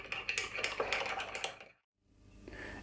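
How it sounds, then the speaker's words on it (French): A spoon stirs melted white chocolate and cream in a bowl, giving quick clinks and scrapes for over a second before a brief silence, then soft, low handling noise. "je finis de le mélanger avec ma cuillère"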